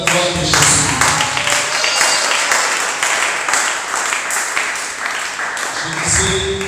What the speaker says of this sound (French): Acclame très fort pour la gloire de Jésus.